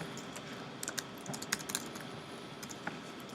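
Code being typed on a computer keyboard: a quick, irregular run of light key clicks with small clusters of taps over a quiet room background.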